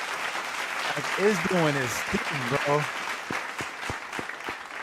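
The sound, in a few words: applause in a played trailer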